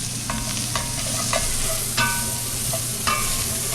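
Braised beef stirred in a pan over low-medium heat: a steady soft sizzle runs throughout, broken by several scraping clinks of the utensil against the pan, close and moderately loud.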